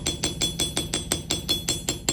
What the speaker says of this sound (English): I'm going to show you using this side of the riveting hammer, what the texture looks like.